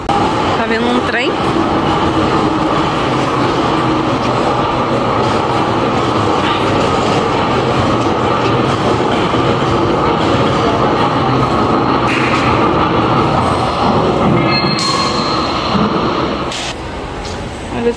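A train rumbles past close by, a loud steady roar with rhythmic wheel clatter lasting throughout, easing slightly at the end.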